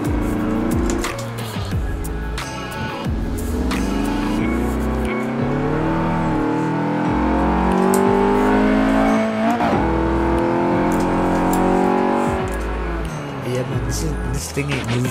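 Interior engine sound of a 1993 Renault Clio Williams in Forza Horizon 4, revving up and down through gear changes with tire noise, loud and continuous throughout.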